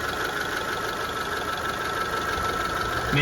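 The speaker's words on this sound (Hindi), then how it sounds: "तो इंजन की स्पीड खुद ब खुद बढ़ेगी और कम होगी जैसे जैसे कि मैं इसे टच करूंगा।" A car engine idles close by during a power steering switch test, giving a steady, rough, low rumble with a mechanical hum throughout.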